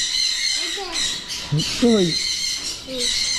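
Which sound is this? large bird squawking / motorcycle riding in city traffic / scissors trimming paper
large bird squawking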